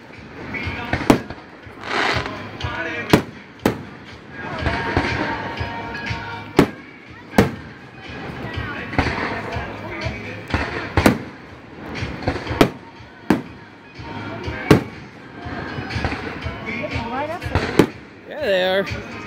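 Fireworks and firecrackers bursting on the 3rd of July in Walnut, sharp loud bangs at irregular intervals, some deep booms among them, with people talking throughout.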